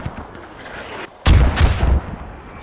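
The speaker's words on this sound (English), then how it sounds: "finally mortars coming in on the hab position now" American mortar rounds slam onto an enemy garrison position during a competitive video game match: two loud, close blasts about a third of a second apart, each with a rumbling tail, over quieter background battle noise.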